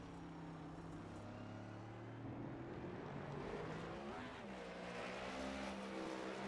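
Race car engines drone steadily in a faint, distant, continuous roar with shifting pitch, set at a Wheels America racing event.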